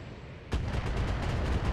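BattleTech mech weapons opening fire, a sharp loud blast followed by a rapid, evenly spaced series of heavy shots or impacts continuing for over a second.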